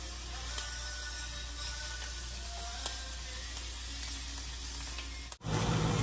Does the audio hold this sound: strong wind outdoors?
no